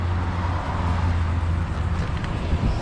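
Loud, close road traffic rumbles past outdoors beside a plant-filled garden, a dense, continuous roar of passing vehicles with slight surges, no clear voices.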